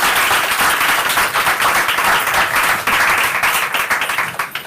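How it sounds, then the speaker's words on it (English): An audience claps warmly at a talk on gender representation, dense and steady applause that stays loud and even for a few seconds without voices over it. "give him a big warm welcome and a round of applause for joining us today"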